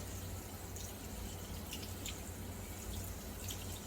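Water running and dripping through hair while it is wetted for a shampoo, a steady low wash with scattered light splashes and drips throughout, no talking.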